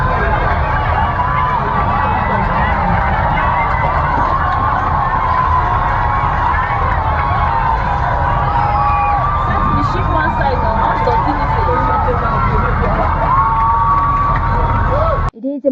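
A large outdoor crowd cheers and chants for passing athletes, a dense, continuous roar of voices with rising and falling chant lines. It is loud and steady throughout, then cuts off abruptly at the end.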